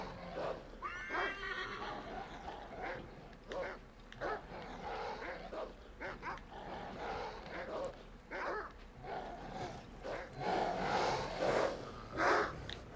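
A horse whinnies and snorts amid the busy soundscape of Assassin's Creed III, with repeated hoof clops and animal calls scattered across a steady background.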